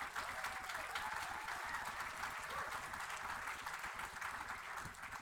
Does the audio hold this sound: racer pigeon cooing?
no